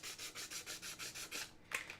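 Wood being hand sanded with steady back-and-forth rubbing strokes, about eight even passes, then a brief pause and a final scrape, close and clear with no talking.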